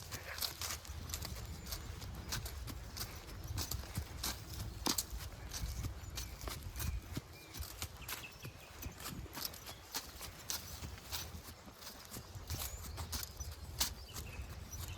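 A horse led on foot along a walk with puddles clops steadily, its hooves striking in an even walking rhythm, close and moderately quiet against faint outdoor ambience.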